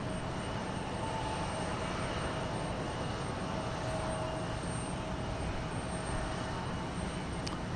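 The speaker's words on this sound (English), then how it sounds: "Then we've got a United Express aircraft taking off for El Paso, Texas." A United Express Embraer 175 regional jet takes off at Houston Intercontinental, a steady distant engine roar and broad rumble holding evenly throughout, with no other sounds standing out.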